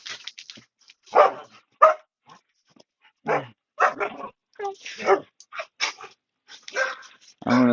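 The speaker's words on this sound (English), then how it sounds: "Loud, happy puppies." Energetic puppies bark loudly and repeatedly in short, irregular bursts, mixed with yips and whimpers and separated by brief silences.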